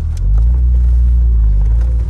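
Steady low engine rumble from a BMW E30 320iC idling or running smoothly, close and loud, with a constant deep drone and no rattling.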